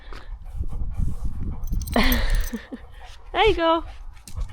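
Pet dog moving about indoors just after its lead is taken off during a UK heatwave, with close low rustling and breathing, then sharp whimpering yips, while someone talks.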